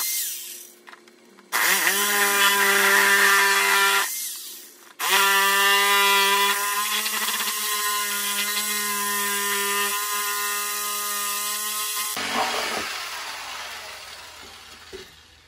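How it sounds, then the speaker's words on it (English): A power saw whines steadily as it cuts off the top half of a piece for a DIY festival totem, with one short burst followed by a longer sustained cut before it stops, loud and close. "we're just gonna saw off the top half so we can JB weld the other piece on"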